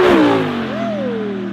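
An Audi R8 V10 with an ARMYTRIX titanium exhaust and open valves sweeps past, its loud howl dropping in pitch as it passes close by, then fading into a rasping exhaust note.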